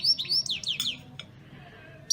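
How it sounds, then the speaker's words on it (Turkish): Goldfinches sing indoors in a coffeehouse where many are kept, a run of bright, rapid twittering chirps and trills close by, followed by a short pause and a fresh burst. "Sadece sakalar ötüyor."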